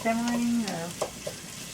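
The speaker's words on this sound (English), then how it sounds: "cooking away here, sizzling away here" Onions and peppers sizzle and crackle in a hot pan while being stirred, with a brief scrape of a utensil.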